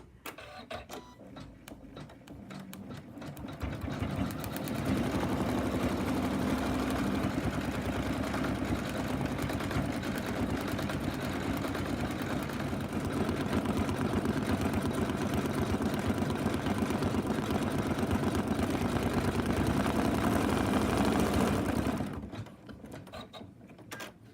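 An embroidery machine stitches the light pink inner ears of an in-the-hoop pig softie, a steady, loud mechanical whir with rapid needle chatter that starts up, runs continuously for most of the stretch, then stops.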